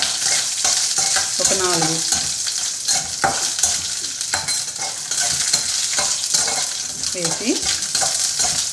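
Dry red chillies crackle and fry in hot oil as a tempering for a Telugu tomato chutney, a steady loud sizzle with stirring scrapes throughout and brief faint speech.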